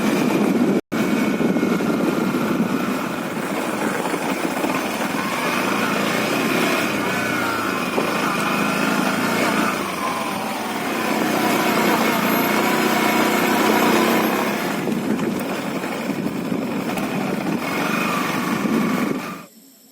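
A motorcycle engine runs steadily at idle throughout, a constant mid-level drone with slight swells and no break except a brief click near the start.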